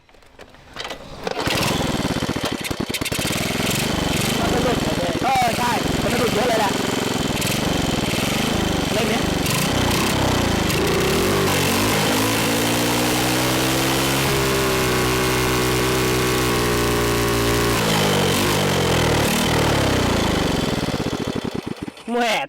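A Honda Wave 100 motorcycle fitted with a new exhaust starts up loudly and runs, its single-cylinder engine sputtering and revving unevenly before settling into a steady idle, very close.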